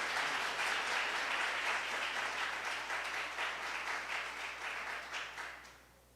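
A church congregation at a deliverance service gives a loud, sustained round of applause that fills the space evenly, then fades out toward the end.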